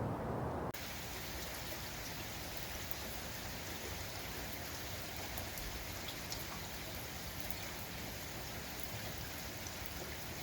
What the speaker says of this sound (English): As we listen to the rain.